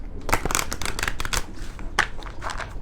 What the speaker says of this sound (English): Give them an extra shuffle